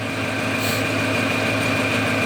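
A homemade generator runs steadily at a constant idle, its continuous engine drone and hum filling the whole stretch with no pauses and no voices.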